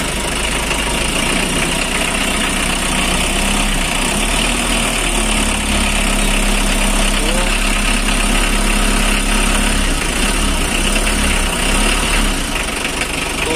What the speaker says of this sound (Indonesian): ini kondisi mesinnya masih sehat ya, tidak ngoplos.